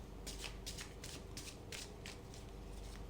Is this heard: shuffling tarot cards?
yes